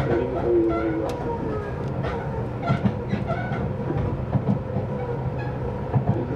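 Tobu 350 series limited express train running on the Shimotsuke service from Asakusa toward Tobu-Utsunomiya, heard from inside the car as a steady rumbling roll with periodic clacks of wheels over rail joints.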